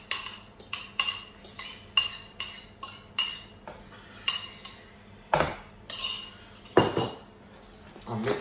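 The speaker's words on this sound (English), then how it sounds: "And mix that in like so." A spoon stirs Christmas filling in a bowl, with repeated clinks and scrapes of metal on the dish in a quick, uneven rhythm, close and fairly quiet.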